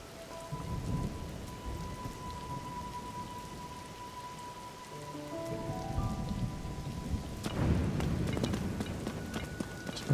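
Rain falling in Zelda: Tears of the Kingdom, a soft steady patter with a low rumble of thunder rolling in partway through, quiet and continuous alongside faint game tones.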